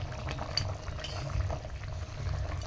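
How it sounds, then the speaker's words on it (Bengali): Mustard hilsa fish curry bubbles in a pan with soft, irregular popping and sizzling over a low steady hiss, close and moderately quiet. "মাছটা আস্তে আস্তে ফুটতে শুরু করে দিয়েছে"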